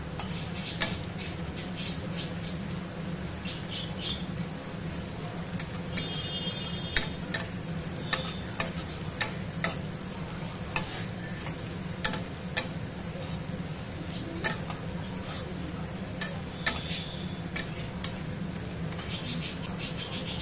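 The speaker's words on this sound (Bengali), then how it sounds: "তেলের মধ্যে পেঁয়াজ, গরম মশলা ফোড়ন আর তেজপাতা ফোড়ন দিয়ে দিলাম।" Onion, garam masala and bay leaf tempering frying in hot oil, a steady close sizzle with scattered clicks and light stirring scrapes throughout, no voices.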